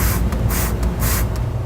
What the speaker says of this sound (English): So we're going to go ahead and spray down everything,